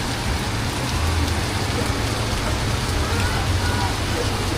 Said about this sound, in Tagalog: Ang lakas ng ulan ng puti.